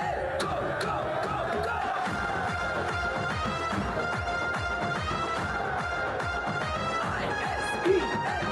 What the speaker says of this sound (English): Keep the claps going, ladies and gentlemen.